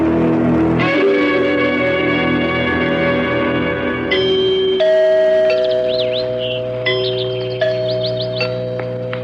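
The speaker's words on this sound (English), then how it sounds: "Did you hear the chimes?" Bell chimes ring out as a radio drama sound effect in a grand house, a sustained resonant tolling with overlapping tones that change pitch midway, loud and close with a lingering decay.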